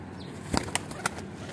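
A pigeon flaps its wings in three short, sharp bursts close at hand, each a brief flutter separated by quiet, with no talk.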